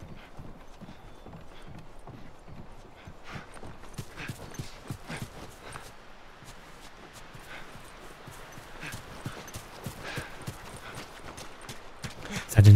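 Horse hooves clip-clop in the video game The Last of Us Part I, a steady run of close, moderately quiet hoofbeats that builds slightly toward the end.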